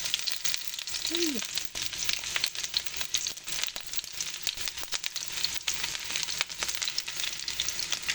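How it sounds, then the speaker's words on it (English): Onion drops into a smoking preheated pan and sizzles loudly and continuously, a dense bright frying hiss with crackles throughout and a brief faint tonal squeak early on. "And I'm going in with my onion."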